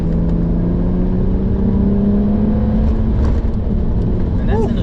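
BMW 330D diesel sleeper tuned to about 700 Nm pulling hard from a standstill with a brief burst of wheel spin; a loud, steady engine drone fills the recording, with people talking over it.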